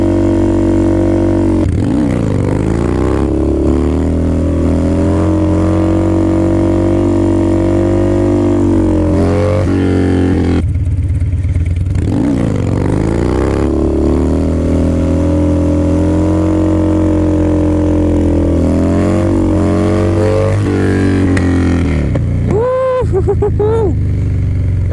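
A Harley-Davidson Dyna motorcycle making wheelie practice runs: the loud V-twin revs hard, rises and drops in pitch over several passes, and settles to an idle near the end, heard up close.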